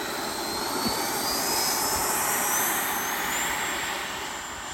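An FMS 80mm Integral RC jet passes overhead on a trimming flight, its ducted-fan whine rising and sweeping in pitch at moderate loudness, steady throughout with no voices.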